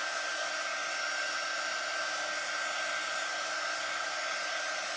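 A heat tool blows a steady, loud, unbroken whoosh of hot air while warming wax on a sample heart craft piece, constant throughout with no voices.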